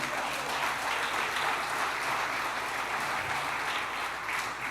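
A church congregation claps loudly for the Lord during a sermon, with dense, sustained applause from many hands filling the whole stretch at an even level.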